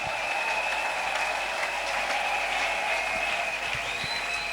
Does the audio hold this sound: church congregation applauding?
yes